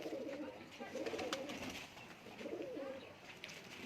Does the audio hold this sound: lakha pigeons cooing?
yes